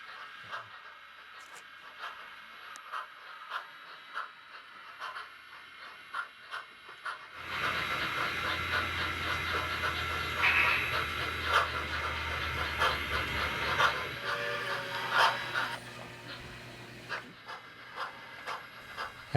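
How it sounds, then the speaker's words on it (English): A model steam log train pulls into a station on a detailed model railroad, with faint rail clicks and hiss at first, then a louder sustained rumble and hissing steam from about the middle before easing off again. "The log train arrives at Incline, meeting with the El Portal local."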